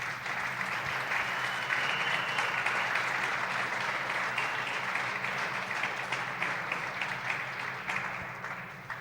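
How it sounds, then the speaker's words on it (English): Audience applause after a squash final at a professional tournament, steady dense clapping sustained throughout, fairly close and even in level. "Can we give them a round of applause as well?"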